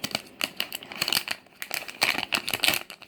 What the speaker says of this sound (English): Okay, let me use scissors.